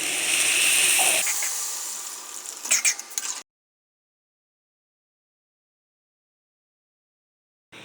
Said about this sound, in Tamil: இப்போது வாட்ரு நல்லா கொதி வந்துருச்சு